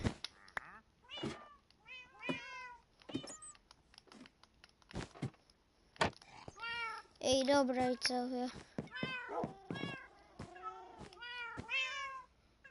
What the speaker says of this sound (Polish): Koty.